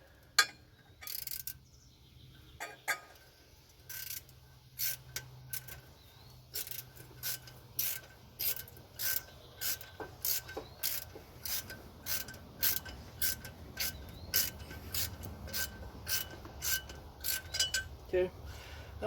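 A ratchet wrench tightens a bolt on the water pump of a small block Chevy engine, giving a long, steady series of crisp, close ratcheting clicks at a regular pace.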